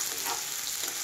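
Food frying in a pan to a reddish brown gives a brief, continuous, close sizzle and hiss.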